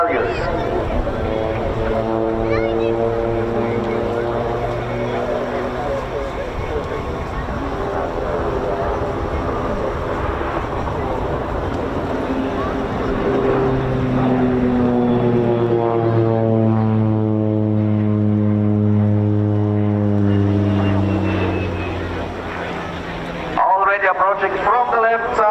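A display aircraft flies a slow roll with landing gear and flaps down at the RAF Cosford air show, its engine drone rising and falling in pitch as it passes, loud and sustained beneath an announcer's commentary.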